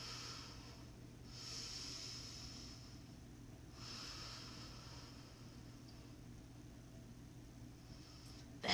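Deep, slow breaths during a yoga flow, with two long airy inhales or exhales rising and fading over a steady low background hum, close and soft, and no talking.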